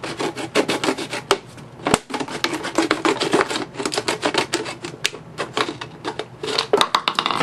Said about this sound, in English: use the scissors to cut around it like this